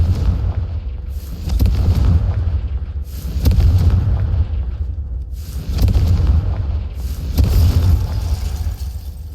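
Confringo fire spells in Hogwarts Legacy explode in a series of heavy booming blasts, about four of them in a repeating rhythm, each with a deep rumbling roll that fades before the next hit.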